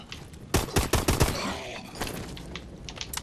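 Rapid gunshots ring out in the Call of Duty: Advanced Warfare Exo Zombies solo mode, a cluster of five or six sharp close cracks followed by fainter scattered shots and clicks.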